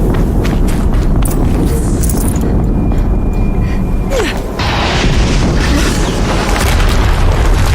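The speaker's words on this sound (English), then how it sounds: "Another explosion." A video game explosion, a loud low booming rumble that fills the clip, dips briefly near the middle, then swells again with crackling debris.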